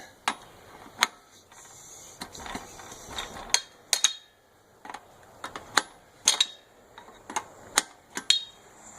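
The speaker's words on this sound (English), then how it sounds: "And we're going to use a 5/8 inch wrench for that." A 5/8 inch wrench loosening the brine line nut on an Ionics water softener, giving sharp irregular metallic clicks and ticks, close and fairly crisp, with short pauses between them.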